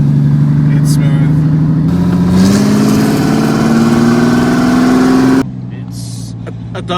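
A smooth, loud twin-turbo V12 engine in a Toyota Hilux drones while driving, its pitch climbing gradually before it drops off sharply to a quieter idle, with a voice talking over it.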